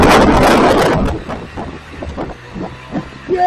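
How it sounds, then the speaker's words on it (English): Loud wind buffets the microphone on a 2025 Spyder F3 Limited ride, then drops to a low rumbling gust with faint motor noise beneath. "It's also pretty windy out here today"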